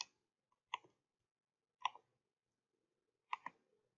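Four sharp, quiet mouse clicks spaced about a second apart, each a tiny double tick against near silence.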